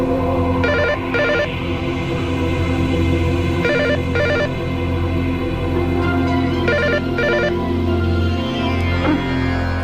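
A telephone rings in repeated double bursts, loud and close, over a steady background hum with no talking.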